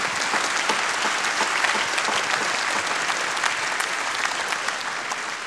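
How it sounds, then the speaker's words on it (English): Steady, sustained applause fills the hall at a jazz concert of sacred music, many hands clapping evenly and close for several seconds with a faint murmur of the audience beneath. "So let's give him one more big round of applause."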